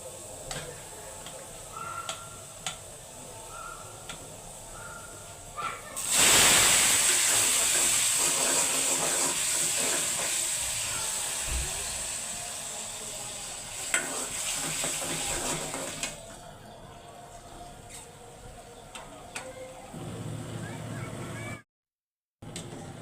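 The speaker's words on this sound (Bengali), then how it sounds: "আজকে ভিডিওটা দুপুরের রান্না থেকে স্টার্ট করলাম ডাল রান্না করতেছি" Dal (lentils) cooking in a pot produces a loud, steady sizzling hiss that lasts about ten seconds, with quieter kitchen sounds and light clicks before and after it.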